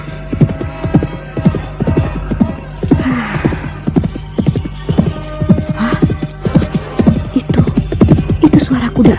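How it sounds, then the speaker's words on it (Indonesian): A horse neighs while its hooves clip-clop in a quick, rhythmic beat that runs the whole time, loud and near, with whinnies rising over the steady hoofbeats. "Itu suara kuda ajaib yang kujumpai tadi."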